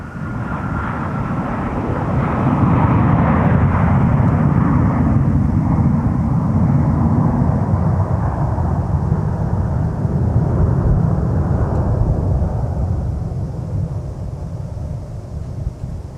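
A Boeing 717 airliner arriving at the airport roars past with a loud, broad engine rumble that swells and then slowly fades, accompanied by some wind noise.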